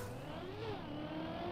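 A car engine revs and shifts pitch in a smooth rising and falling whine, steady and fairly quiet, with no talking.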